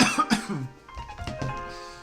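A few sharp, harsh coughs close to the mic in quick succession, followed by softer rough throat noises.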